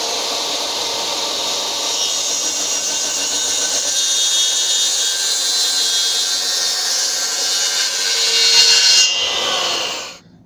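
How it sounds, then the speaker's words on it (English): Sandpaper rubs steadily along the edge of an MDF board, giving a continuous, close, loud scratchy hiss that holds for about ten seconds before stopping abruptly. "Sanded it round, taken that corner off, gone down to 120 grit."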